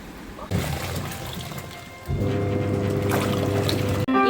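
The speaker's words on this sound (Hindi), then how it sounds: "बारिश बहुत तेज़ हो रही है और पानी भर चुका है।" Heavy rain with water pouring and flooding in, a loud, steady rushing that starts abruptly and thickens midway as a humming tone joins, continuing to the end.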